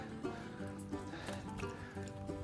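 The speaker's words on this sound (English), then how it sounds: "Oh man, look at the horse." A horse on the bank at a carp fly-fishing spot, sounding in a busy outdoor scene: hoof clomps and snorting or whinny-like bursts repeat at short intervals over steady background noise, with no talk heard.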